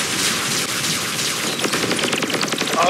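Robot guns in Robocraft fire rapidly in a steady, machine-gun-like stream of shots, loud and close, with a sharp burst of repeated reports in the second half.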